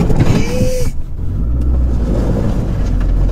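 A rental car's engine revs while the car is stuck, with a rising whine early on, then a steady, loud, low engine rumble that continues to the end.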